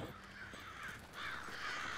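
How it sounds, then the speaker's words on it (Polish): Crows cawing in the video game Fable 3: several harsh, hoarse caws repeating over a low ambient background, fairly faint and distant, with no talking. "zaś jakieś kruki"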